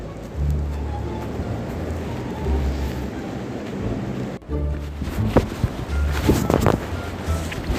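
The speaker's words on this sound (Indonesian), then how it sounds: "Hujan deh." Steady rain falls outdoors, a continuous hiss that carries through the first half alone, then continues under brief voices and movement noises toward the end.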